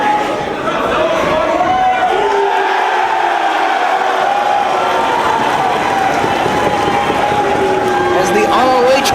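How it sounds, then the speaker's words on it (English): A loud, vocal wrestling crowd at an ROH event in Philadelphia cheers and chants without pause, a dense roar of many voices with rising shouts, filling the arena throughout. "The ROH crowd voices their support for the American Dragon."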